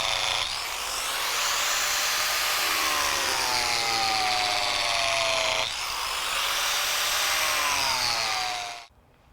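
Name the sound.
4-inch concrete grinder cutting with crack chaser blade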